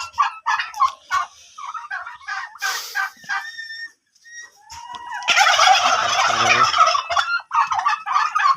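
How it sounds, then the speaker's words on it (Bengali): White turkeys on a farm give repeated rapid gobbles, some close and loud, including a long sustained rattling burst near the end, with other fowl calling and a dog barking briefly in the background. "সাদা টার্কি"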